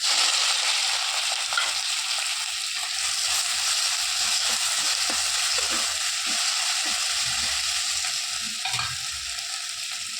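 Cut okra and green chillies frying in hot coconut oil for a curry, a steady close sizzle running throughout with scattered stirring scrapes and small pops.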